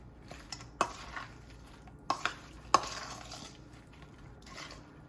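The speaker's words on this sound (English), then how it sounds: "I'm going to put all of them in the bowl and give it a stir." Air-fried barbecue chicken wings being stirred in a bowl, quiet scraping with a few sharp clacks of the utensil against the bowl, close by.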